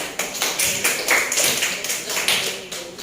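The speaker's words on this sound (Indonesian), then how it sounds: "Ya, tepuk tangan" Scattered clapping from a class of students during a teaching practice session in Banda Aceh, a steady patter of hand claps with a voice faintly underneath.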